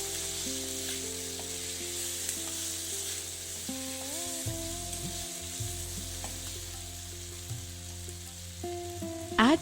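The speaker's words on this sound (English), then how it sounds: "Let us now stir the ingredients so that our Shimla Mirch gets nicely coated." Chopped capsicum (Shimla Mirch) frying with chili powder in a pan, a steady broad sizzle holding throughout with soft scraping stirs and a small clatter near the end; no one speaks.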